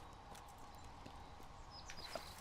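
Horse hooves clip-clop at a steady walking pace in the video game Kingdom Come: Deliverance, soft and somewhat distant against a constant ambient background.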